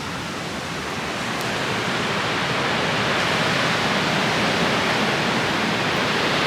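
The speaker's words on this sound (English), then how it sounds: "The sound of the waves crashing is just so beautiful." Ocean waves crash at sunrise on the coast of Olympic National Park, making a loud, continuous, broadband roar that builds slightly and then holds steady with no distinct breaks.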